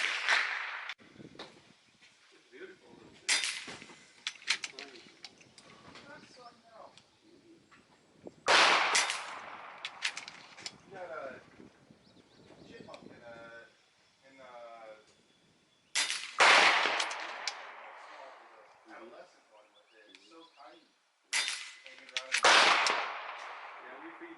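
An air rifle firing 18 grain JSB pellets, with four loud, sharp shots spread across the stretch, each followed by a brief clatter, while people talk quietly between them.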